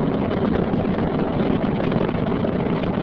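Space Shuttle Discovery's three liquid-fuel main engines during launch, heard as a steady, dense, muffled roar from inside the cockpit, constant and loud with no breaks.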